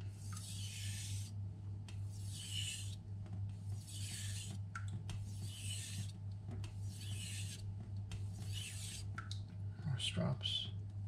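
Six rhythmic knife-sharpening strokes on a Naniwa Aotoshi green whetstone, each a steady rasping scrape about a second long with short pauses between, close and clear over a constant low hum.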